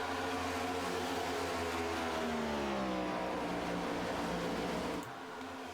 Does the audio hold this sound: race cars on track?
yes